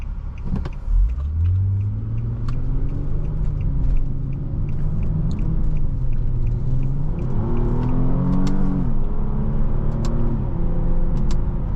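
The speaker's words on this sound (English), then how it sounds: "That VQ motor sounds fantastic." A 2015 Infiniti Q60 IPL's VQ engine revs up and down from inside the cabin during a drive, its tone climbing and falling through repeated sweeps over a steady low rumble, close and continuous with no talk.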